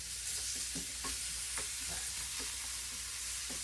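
Potatoes, roughly three or four large ones, fry in a skillet as the base for a ham and egg dish, with a steady close sizzle and repeated scraping and stirring taps, no voices.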